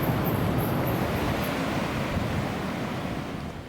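Ocean surf rolls below a campsite in Costa Rica, a broad, steady wash of waves from a distance mixed with gusty wind buffeting the microphone, fading a little at the end.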